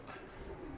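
A Jaunsre pigeon coos softly and low, a faint murmur against steady background noise with no talk over it.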